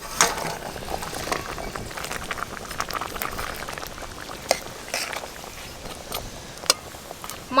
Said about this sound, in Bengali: ঝোল খুব ভালোভাবে ফুটে গেছে।